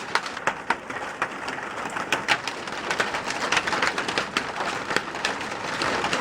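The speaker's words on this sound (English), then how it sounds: "Yeah, that hail is huge." Hail pours down during a tornado storm, a dense steady clatter of hard impacts with sharper louder strikes scattered throughout.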